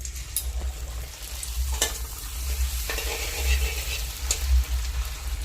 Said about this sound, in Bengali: তেল গরম হয়ে গেছে, এখন ফুচকা দিয়ে দেবো।